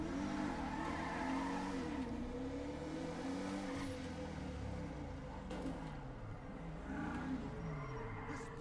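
A car in the video game GTA V speeds down a street with a steady engine roar. Its pitch rises and falls as the tires squeal and skid, and the sound continues throughout.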